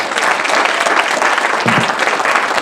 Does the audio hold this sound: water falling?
no